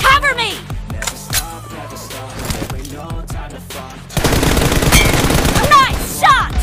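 M416 rifle gunfire in a PUBG team deathmatch, with short bursts and single shots early, then sustained rapid automatic fire, loud and close, with occasional voices.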